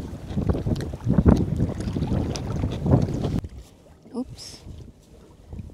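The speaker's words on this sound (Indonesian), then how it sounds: "dengerin suara air, terus angin sepoi-sepoi gitu kan" Outdoors beside the Lower Rhine in the Netherlands, a steady wash of flowing water mixed with gusty breeze buffeting the microphone, loud at first and then dropping to a quieter, sparser rustle.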